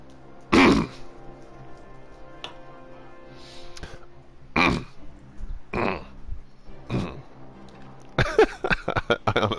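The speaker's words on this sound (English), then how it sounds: "You hear me cough after every time you play the bots." Several sharp coughs or throat-clearing bursts scattered across a quiet stretch, each short and fairly close, with a louder cluster of rapid bursts near the end; no talking.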